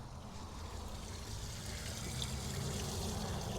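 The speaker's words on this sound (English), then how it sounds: "There is water going all over the engine" Water from a garden hose splashes over a Geo car engine while flushing the heater core, a quiet, continuous pouring and spattering that grows slightly louder, with no voices.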